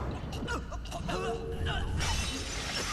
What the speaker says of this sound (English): What is that shattering sound?